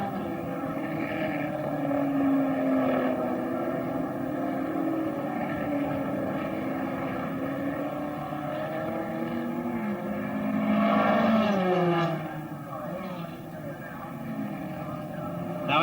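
Race cars from 1963 at Warwick Farm circuit drone along as engine notes rise and fall, with one car swelling nearer around the middle before fading, all beneath continuous commentary.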